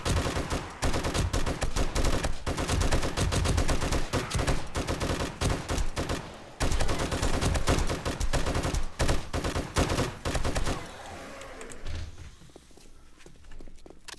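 Dense, rapid gunfire from 7 Days to Die during a horde night, loud sustained bursts of automatic shots with brief pauses, the shooting ending abruptly and leaving a quieter tail.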